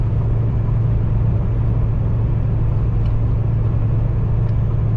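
Steady low road rumble and engine drone from inside a moving car, continuous and fairly loud with no talking.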